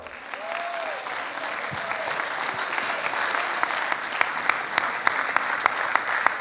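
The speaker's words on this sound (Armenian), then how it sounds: "Ծափահարիր ինքդ քեզ, դու արժանի ես։" An audience applauds steadily at a celebration, a dense, continuous patter of many hands with a few sharp, nearby claps standing out toward the end.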